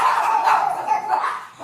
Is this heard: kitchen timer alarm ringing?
no